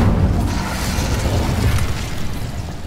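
A fire-blast spell from a wizard video game, set amid a dark wizard encounter, roars as a continuous loud, low rumbling whoosh for about three seconds, steady and close with no break.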